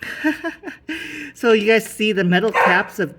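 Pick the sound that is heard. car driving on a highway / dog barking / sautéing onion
dog barking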